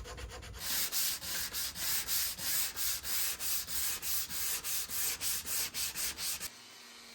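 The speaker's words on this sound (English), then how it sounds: "So we're back to hand sanding." Steady hand sanding on wood: a quick, even rhythm of about twenty rasping back-and-forth strokes, close and alone, ending abruptly.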